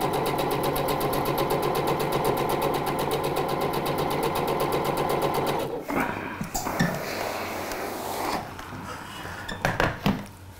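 A sewing machine stitches a hem along the groove of an earlier seam in a rapid, even mechanical rattle for about six seconds, then stops, leaving a few light clicks and handling knocks.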